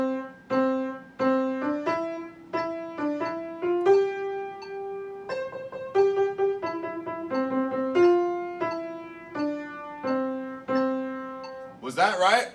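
A ukulele plays a simple song melody in a school music lesson, single plucked notes one after another at a steady unhurried pace, close and clear, ending with a brief strum or rustle.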